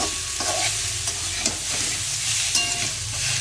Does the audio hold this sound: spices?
yes